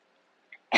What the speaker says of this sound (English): I just literally had to clear my throat